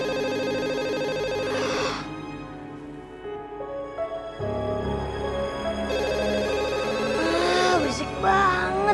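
A telephone rings late at night, its repeated electronic ringing tone running through the clip over a steady tonal bed, fairly loud and close with no talking.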